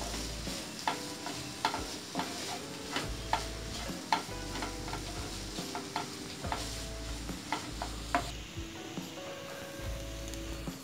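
Fish porutu frying in oil with spices in a pan, a continuous close crackle and sizzle with rhythmic scraping strokes of a spoon stirring through it.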